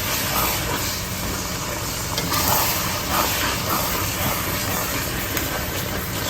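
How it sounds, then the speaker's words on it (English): Liquid from half a bottle poured into a hot pan to deglaze it, giving a loud, steady sizzle and hiss that holds for several seconds with no talk. "I'm about to use about a half a bottle, I should say. That'll deglaze the bottom of the pan."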